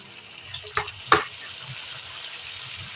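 Water poured into a hot pan of okra cooking with masoor dal and potatoes brings a faint frying sizzle, with a couple of sharp splashy bursts early on, then settles into a soft hiss.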